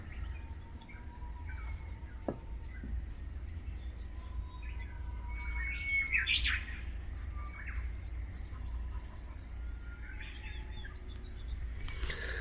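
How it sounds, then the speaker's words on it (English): Small birds chirp and tweet intermittently in the distance over a steady low outdoor hum, with brief bright calls scattered through. "It seems as if Spunky likes to listen to the birds too."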